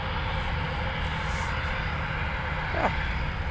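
An RAF Eurofighter Typhoon jet taxiing at RAF Coningsby, a steady broadband engine roar and whine that stays constant and moderately distant, with no talk.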